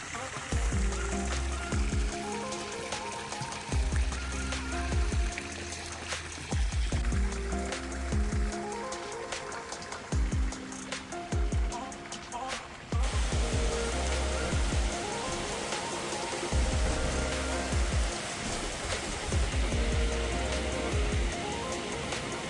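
An evening rain falls in Kuta on Lombok, a continuous broadband hiss of drops on surfaces with music playing loudly over it throughout.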